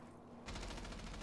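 Rapid gunfire in a first-person shooter video game, fired at an enemy through a wall; a sudden dense burst of automatic shots begins partway in and keeps going steadily to the end, fairly close and moderately loud.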